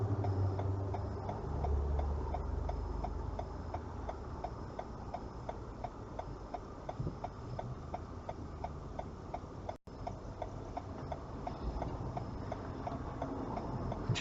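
A car's turn indicator ticks in an even, steady rhythm, faint beneath the cabin's road and engine noise, with one brief dropout partway through.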